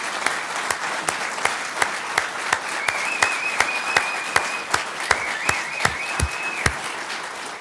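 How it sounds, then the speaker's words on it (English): A ceremony crowd gives sustained applause for newly promoted police officers at a police promotion ceremony, with steady clapping and several sharp individual claps standing out close by, and a high whistle-like tone sounding over it midway. "Can we get one more round of applause for all our newly promoted officers?"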